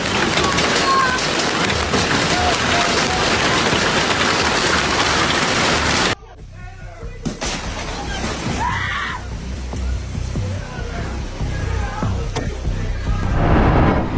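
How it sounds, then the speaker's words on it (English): A powerful hailstorm pounds a city in Munich, a dense, loud, steady roar of hitting ice and water that drops off abruptly midway, then returns as a softer wash that swells again toward the end. "Look at this powerful hailstorm pounding Munich, turning the city into a terrifying scene."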